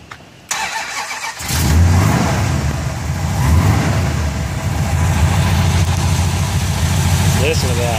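After a moment of quiet, the 440 Six Pack V8 of a 1971 Dodge Charger R/T tribute fires up with a loud roar, then settles into a rumbling, lopey idle close by.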